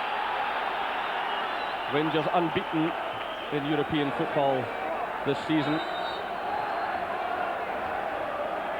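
Football crowd at a 1993 Champions League match between Rangers and Club Brugge, a steady loud roar of cheering filling the stadium throughout, with commentary spoken over it.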